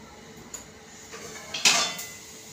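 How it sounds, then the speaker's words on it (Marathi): A steel plate set as a lid over a pan of potato bhaji: a light metallic tap, a short scrape, then a bright clanking clatter as the plate settles, close and clear with no talking. "आता 2 मिनिटं मी हेच ताट त्याच्यावर झाकण ठेवते"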